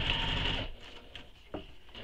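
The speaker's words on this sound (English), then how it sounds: "Now we're going to top stitch this all the way across" Sewing machine top stitching across a crossbody bag panel, a steady whirring run for most of a second that then stops, followed by a few soft handling clicks at close range.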